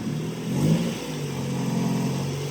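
A right-hand-drive car is driven with a steady, mid-pitched engine hum that swells slightly now and then, heard close from inside and continuous throughout.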